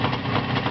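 A car engine runs steadily and fairly loud for a brief moment, with an even, rough hum and no talk over it.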